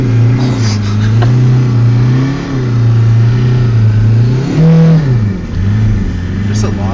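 A 1996 Audi S6 with a TDI diesel conversion revs repeatedly in a snowy parking lot, the engine note rising and falling in loud, close blips with a steady idle between.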